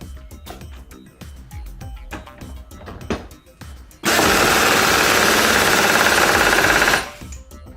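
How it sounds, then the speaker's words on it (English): A pneumatic pulse assembly tool on a compressed-air line runs in a loud, steady, continuous burst for about three seconds after a stretch of rapid clattering knocks, then cuts off sharply. "That's how the pulse tool works."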